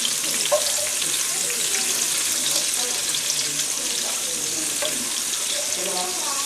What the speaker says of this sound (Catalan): Pots tornar a remenar la cassola aquesta, sisplau, la de terrissa?